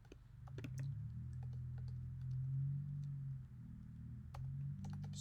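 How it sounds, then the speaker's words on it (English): Computer keyboard typing during a programming lecture: scattered quick key clicks in short bursts, quiet and close, over a low steady hum. "I'm getting tired of typing it like that."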